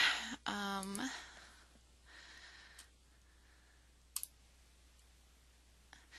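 A computer mouse gives a few sparse, faint clicks at irregular intervals, following a brief vocal sound at the start.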